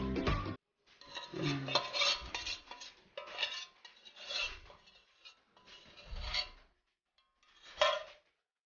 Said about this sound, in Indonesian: Kemudian kita aduk rata ya, sampai rata, sampai tercampur rata sehingga menyatu ke dalam adonan coklat di sisi ini